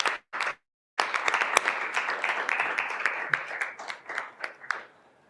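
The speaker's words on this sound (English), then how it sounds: "let's give a round of applause to Abel." A crowd bursts into applause after a brief pause, with dense clapping that builds, holds steady for several seconds, then thins out and fades.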